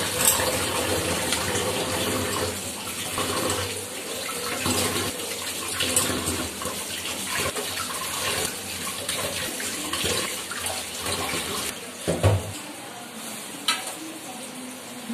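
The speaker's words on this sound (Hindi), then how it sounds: "मछली धो रहे हैं आज जो मछली लाए हैं" Rui fish being washed under a running kitchen tap, a steady broadband gush of water with handling splashes throughout, close and fairly loud, no talk.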